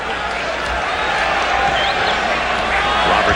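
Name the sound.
basketball arena crowd reacting angrily to a goaltending call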